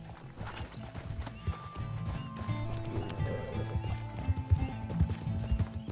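Horse hooves clip-clopping in Red Dead Redemption 2, a steady run of close hoofbeats over a low rumble, with a whinny and faint game sounds mixed in.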